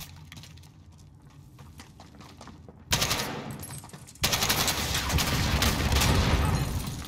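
An AK rifle firing in the Modern Warfare campaign: quiet game ambience, then sudden loud bursts of automatic gunfire that continue in a dense, sustained volley to the end.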